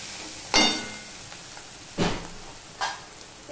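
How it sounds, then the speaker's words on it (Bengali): Grated chili, onion and garlic fry in a pan with a low, steady sizzle, broken by three brief louder bursts of crackle, as if stirred or jostled, with no talking. "গ্রেট করা লঙ্কা পেঁয়াজ রসুন সব ভালো করে ভাজা হয়ে গেছে"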